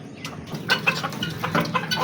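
Several chickens cluck in short, close, irregular bursts while pecking at a morning feed of broken boiled egg, without any speech.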